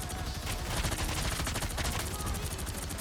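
Sustained turret gunfire in Marvel Rivals shredding Groot's walls: a fast, unbroken stream of rapid shots, loud and close, with constant rattling impacts throughout.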